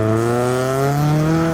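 A modified Suzuki Swift at a car meet holds a steady, loud engine rev that climbs slightly in pitch, close by and with no talk over it.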